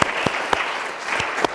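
Audience at an academic wind-up session claps steadily, a brief burst of applause at moderate distance with a few sharper hand claps standing out.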